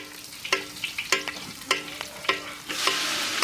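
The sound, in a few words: onions frying and being stirred in a pan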